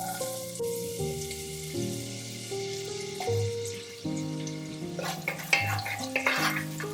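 Onion frying in ghee in a pan, with a steady sizzle beneath a loud musical background and a few louder scraping stirs near the end.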